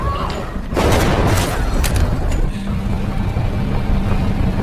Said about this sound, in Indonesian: baku tembak sengit, tidak dapat lagi dihindari